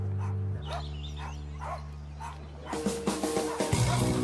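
A dog barks in a row of short, sharp yips and woofs near the end, with other dog noise in a busy indoor setting of a dog show where breeds range from Chihuahuas to Great Danes.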